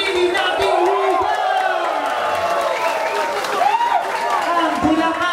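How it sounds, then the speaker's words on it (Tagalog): A crowd at a Bulacan rap battle league event shouting, whooping and cheering loudly, with clapping beneath and voices rising and falling in long overlapping yells. "isa munang maingay at sigawan at palakpakan para sa sarili nating liga"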